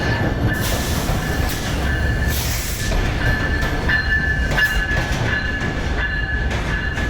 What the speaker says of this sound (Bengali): অলরেডি ট্রেন চলে আসছে।